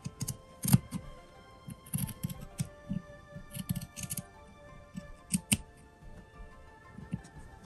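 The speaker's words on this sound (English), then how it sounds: "now I'm gonna cut that out so I can have the curve side here" Scissors cut out a curved piece for a DIY sewing wall project, making a steady run of close, crisp snips in an irregular rhythm over a faint background hum.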